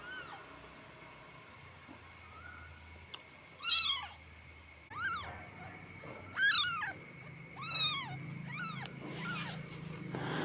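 A young kitten gives several thin, high meows, spaced a second or two apart, close and fairly clear over a quiet background hum, with no talk.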